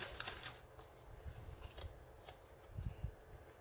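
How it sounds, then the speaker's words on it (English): Cards are handled and shuffled during a card reading, giving soft rustling and light flicking taps that stay faint and close throughout, with no talking. "Now I'm just going to grab some of these of my own cards here."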